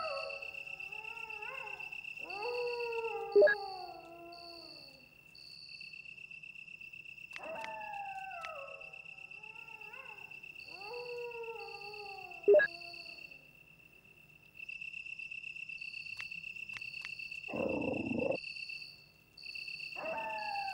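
Dogs howl in the video game Resident Evil Director's Cut in several drawn-out, falling wails that come in separate bursts, over a constant high chirping of crickets and an occasional sharp click.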